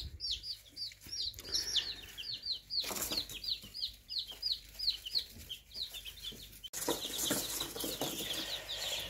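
Many young chicks peep in a brooder, rapid repeated high chirps close by, with rustling and a brief louder burst of activity partway through.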